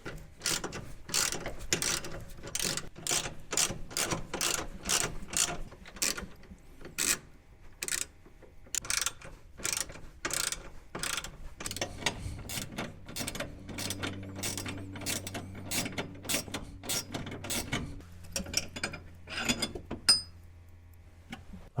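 A hand ratchet works 14mm bolts loose from the winch mount plate on a Kawasaki Mule SX 4x4, sounding as close, crisp rapid clicking in repeated bursts with short pauses, joined near the end by a low steady hum.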